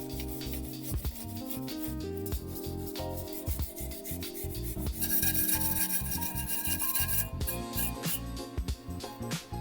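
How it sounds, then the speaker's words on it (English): A wire brush scrubs light corrosion off the edge of a brake caliper on a BMW E92 M3, a dense, continuous rapid scratching rasp that runs steadily and close throughout with no talk. "that's why we're going to use the wire brush"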